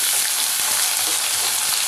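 Onions sauté in hot oil with garlic and cumin, a loud, dense, unbroken frying sizzle close up with faint stirring movements and no talking.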